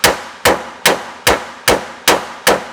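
Hammer striking a part of a 20-year-old Ford SVT Lightning truck frame during restoration, seven loud, ringing metallic clangs at an even pace of about two per second, each decaying quickly, with no talking.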